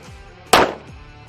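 One final 9mm pistol shot aimed at a target on a range bangs out sharp and near, then tails off in a brief echo.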